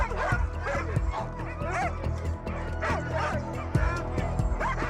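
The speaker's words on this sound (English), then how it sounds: "The dogs start to feel the excitement." Sled dogs bark, yip and whimper excitedly before a race, a dense overlapping chorus of many dogs close by, continuous and loud throughout, with voices mixed in.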